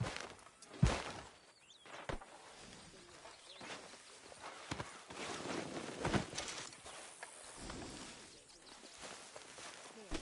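Horse hooves clopping in the Red Dead Redemption 2 video game, a loose series of muffled hoof knocks mixed with other game sounds and background noise under intermittent talk.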